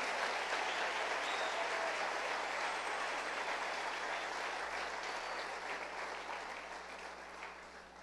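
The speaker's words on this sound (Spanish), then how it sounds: "Dale un aplauso al Señor." Church congregation applauds in a continuous, even wash of clapping that slowly fades toward the end, heard from some distance.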